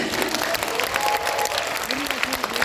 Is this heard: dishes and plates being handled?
no